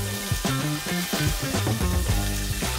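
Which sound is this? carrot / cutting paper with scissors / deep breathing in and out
carrot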